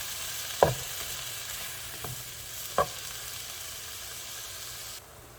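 Zucchini pulp frying in a pan, a steady soft sizzle broken by three clear scrapes of a spoon stirring, before the sound cuts off abruptly near the end.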